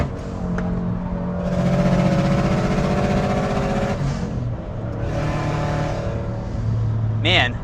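A tuned Subaru Impreza WRX engine accelerates through the gears, its droning tone rising in steps and dropping at shifts, loud and close inside the cabin with volume swelling and falling.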